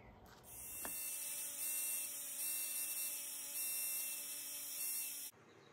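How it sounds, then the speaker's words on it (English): A small pen sander whirs steadily while finishing a cut on a scale model part of HMS Thorn, a faint, even high-pitched whine that starts with a click and runs for about five seconds before shutting off. "And now I'll finish it up with the pen sander."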